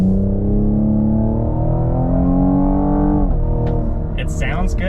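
A 2024 Cadillac CT5-V twin-turbo V6 drones loudly on a road drive, its tone climbing steadily before dropping sharply at a gear shift, then settling lower with faint ticks on top.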